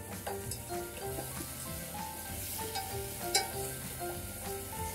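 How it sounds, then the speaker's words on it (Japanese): Ingredients for sundubu jjigae stir-frying in a pan, a continuous close crackling sizzle with scattered pops and light stirring clicks, alone with no talk and a low hum beneath. "炒めることによって旨味が凝縮されますので、必ずしっかりと炒めてください。"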